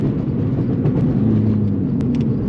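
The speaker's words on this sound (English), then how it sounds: "This has to be the best sounding 4-cylinder out there" Subaru STI with a 4-cylinder engine, tuned to about 400 hp, rumbling and revving steadily from inside the cabin, a loud, continuous low drone with a slight rise in pitch partway through.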